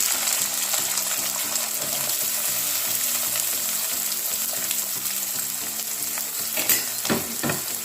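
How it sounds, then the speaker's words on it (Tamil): Onions frying with popped mustard seeds in hot groundnut oil give a loud, steady, close sizzle with occasional stirring scrapes, and faint tonal background sound runs beneath. "வெங்காயம் சேர்த்து நல்லா வதக்கலாம்"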